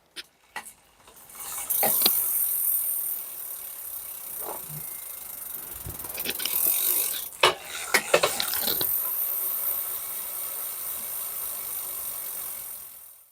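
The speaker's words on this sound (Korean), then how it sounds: "마지막으로 한번 휠셋 돌아가는 라쳇 소리 한번 들어보실게요" A Dahon Mini 349 16-inch folding bike's spinning wheelset freewheel gives off a steady ratcheting buzz for most of the stretch, broken by a few sharp clicks and knocks, with fairly close, moderate loudness and no talk.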